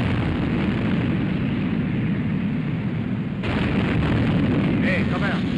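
Naval artillery fire and shell explosions in a war film about the Battle of the River Plate: sustained loud rumbling blasts and roaring gunfire under someone speaking urgently, with the din surging partway through.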